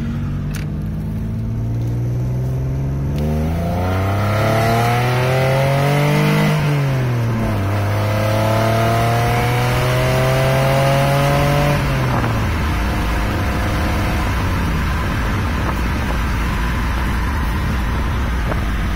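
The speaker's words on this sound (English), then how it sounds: "It's a Busso V6, what it sounds like in stock exhaust." Alfa Romeo 164 with a 3.0 Busso V6 on stock exhaust pulls hard to redline, engine note climbing through gears with a brief drop at each shift, loud and close, no voices.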